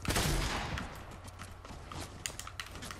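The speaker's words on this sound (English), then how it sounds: "I'm being shot at from somewhere else" Gunfire in the Fortnite video game, a burst of rapid shots up front that thins into scattered cracks and clicks over the following seconds, moderately loud and busy.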